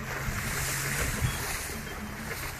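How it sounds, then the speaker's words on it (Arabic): Rain pours down during a spring outing while the listener sits inside a car, a steady broadband wash of drops on the vehicle with a low engine-like hum beneath, constant and fairly loud throughout. "المطر ينزل، المطر يهطل الامطار تهطل"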